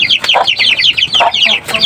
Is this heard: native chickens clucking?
yes